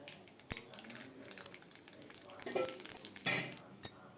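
Oil sizzles steadily with scattered pops and crackles, including a few sharp bursts, like seeds spitting in a hot pan; no one speaks.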